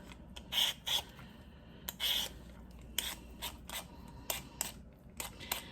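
Potatoes being peeled by hand with a peeler while cooking a steak and brown butter mashed potato dinner: repeated short scraping strokes in irregular bursts, close and moderately loud, with no talking.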